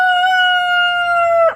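A single loud, close rooster crow, one sustained bright call that cuts off abruptly.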